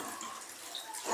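Jute leaves being washed in water in a kitchen produce soft, close splashing and trickling with light dripping, brief and steady.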